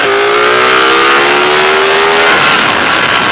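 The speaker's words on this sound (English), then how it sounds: "Third gear, crack it open." Ducati Panigale 1299 S motorcycle accelerating hard in third gear on a bumpy road, its engine note rising loud and steady throughout, heard close up.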